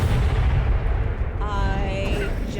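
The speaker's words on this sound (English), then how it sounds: "I just exploded a troll?" A troll exploding in Hogwarts Legacy, a heavy booming blast with a deep rumbling low end that fades into a lingering roar, loud and close, joined by a brief tonal magical chime.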